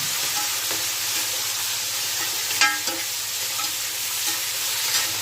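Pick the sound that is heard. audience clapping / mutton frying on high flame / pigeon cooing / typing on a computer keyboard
mutton frying on high flame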